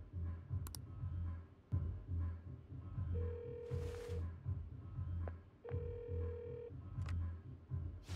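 In the video game Persona 5 Royal, a phone rings with two sustained electronic tones over a busy, rhythmic game soundtrack, with clicks and short blips scattered around them.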